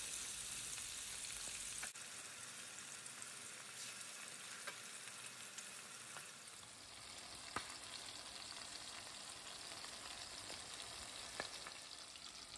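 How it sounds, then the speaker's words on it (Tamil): Anchovy fish fry in a little oil in a pan, making a soft, steady sizzle with faint crackles and occasional stirring clicks, quiet and continuous with no voices. "கொஞ்சமாக எண்ணெய் விட்டுட்டு நம்ம திருப்பி போட்டு பொரிச்சு எடுத்துக்கலாம்."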